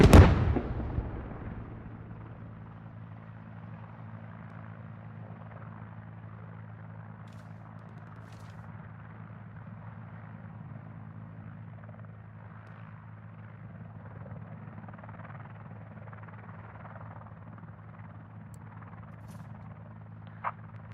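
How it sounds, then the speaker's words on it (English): A helicopter landing in the military shooter game Squad, a steady whirring rotor drone that stays loud and constant throughout, with a sharp bang at the very start and a faint thump near the end. "There's a heli landing here, picking people up."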